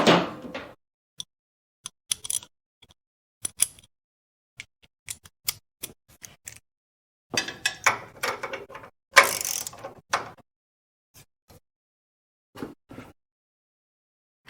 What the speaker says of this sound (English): Put the ratchet on them as well.